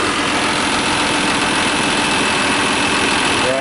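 A New Holland 8160 tractor engine runs steadily at idle, loud and close, a continuous low rumbling drone with vibration throughout.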